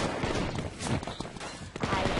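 Rapid bursts of gunfire in the Final Bullet shooting game ring out loud and close, with dense overlapping shots and sharp cracks packed into a couple of seconds.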